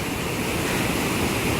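Rapids on the Stanislaus River near Kennedy Meadows, California, produce a dense, continuous rushing roar of churning water, loud and steady with no voices.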